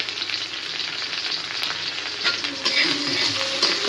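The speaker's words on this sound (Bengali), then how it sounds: "তেল দিয়ে তেলের ভিতরে এই যে পেঁয়াজ দিলাম আর সবজি" Onion and vegetables frying in hot oil, a steady loud close sizzle with light stirring scrapes throughout, no speech.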